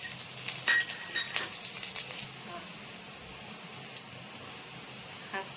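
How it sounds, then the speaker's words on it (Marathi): Garlic frying in hot oil gives a loud hissing sizzle with sharp crackles in the first couple of seconds, then settles into a steadier, softer fry. "तेल तापल्यावर त्यामध्ये लसूण घातलेला आहे"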